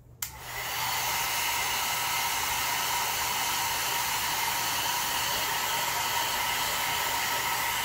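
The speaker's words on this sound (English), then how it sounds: "Now, you're going to take your blow dryer, and you don't have to blow dry it for very long." A hair dryer switches on and blows continuously to dry paint on a Dollar Tree pumpkin craft, a loud steady airy roar with a low motor hum and no talk.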